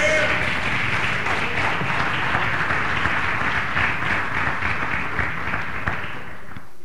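A church congregation applauding, a dense, steady wash of clapping that holds at even strength for several seconds and fades slightly at the end.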